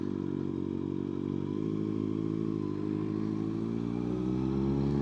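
Kawasaki ZX6R motorcycle engine on a dusk ride, a steady, loud, droning hum at fairly constant revs, with wind and road rumble underneath and no speech.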